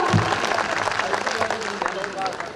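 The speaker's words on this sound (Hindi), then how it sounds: "एक बार अपने हाथों को ऊपर करके जोरदार तालियां बजा दीजिए" An audience claps at a school annual function's kavi sammelan, dense applause filling the whole stretch, while a voice talks over it at the start.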